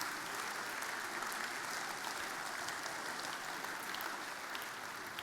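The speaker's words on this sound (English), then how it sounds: "What about a round of applause for all of the contestants?" A crowd at the FMG Young Farmer of the Year 2023 grand final applauds the contestants, with dense, steady clapping that lasts the whole stretch and sounds somewhat distant and even.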